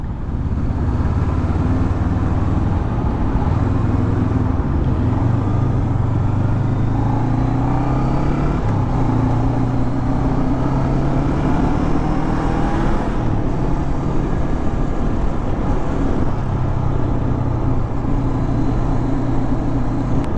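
A Honda CB500X motorcycle engine runs steadily up close, a continuous low, throaty drone with slight shifts in pitch and no one talking.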